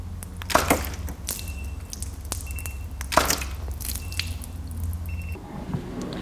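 Water is tossed out of a wine glass in a photography studio, making several wet splashes and drips at irregular intervals, close and moderately loud, with two stronger splashy bursts standing out.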